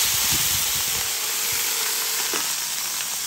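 Shrimp gyoza sizzle and steam on a Blackstone griddle, a loud, continuous hiss with crackling bursts that stays close and steady, with no one talking.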